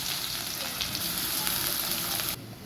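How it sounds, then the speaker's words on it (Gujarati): Cumin and onions fry in hot oil with a dense, close crackling sizzle that holds steady before dropping away abruptly near the end. "હવે આપણે તેલ ગરમ થઈ ગયું છે આપણે એમ નાખીશું જીરું હવે આપણે નાખી દઈશું કાંદા"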